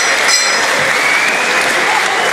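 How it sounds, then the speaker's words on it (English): A boxing crowd claps loudly and continuously, a dense wash of applause with no break. "a big round of applause for their two warriors"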